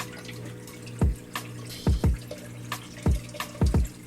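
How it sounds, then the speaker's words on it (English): Water falls through an aquarium algae scrubber in a sump, with a steady low trickle broken by a series of distinct drips and splashes, close and fairly quiet, and no talking. "I don't like for that water to be making a lot of noise"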